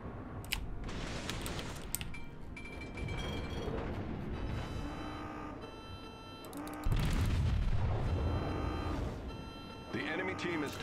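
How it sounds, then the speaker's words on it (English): Naval guns of the Japanese cruiser Aoba boom in World of Warships, heavy salvos layered over a dense game soundscape with a particularly loud, deep blast late on, under speech. "Do you guys hear how sick those gun sounds?"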